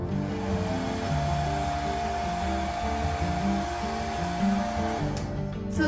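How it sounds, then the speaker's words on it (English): A Revlon hair dryer blows steadily on its low setting, a continuous close whir with a faint hum that drops off abruptly near the end. "So it's not too loud, it's kind of like any other blow dryer."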